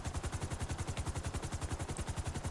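Machine gun fire from a mounted MG in a flying-vehicle video game, a steady, rapid burst of evenly spaced shots running continuously and loudly from start to finish, with no talk over it.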